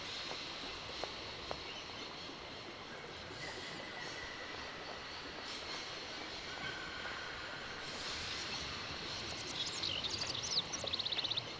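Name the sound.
train running in video game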